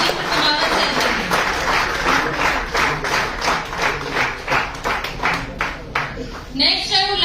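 An audience at an award ceremony in Udaipur claps in a steady rhythm, a run of evenly spaced claps lasting several seconds, with a voice over a loudspeaker speaking over them.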